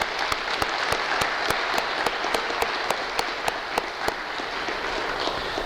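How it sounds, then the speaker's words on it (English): A church congregation applauds its fathers on Father's Day: dense, even clapping with a few sharper nearby claps standing out, sustained for several seconds with little talk. "How about a round of applause for our dads?"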